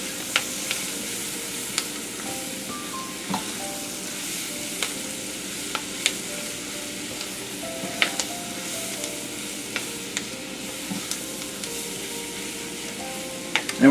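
Vegetables fry in flour and oil for étouffée, a steady close sizzle with occasional sharp scrapes and taps of a spoon stirring the pot.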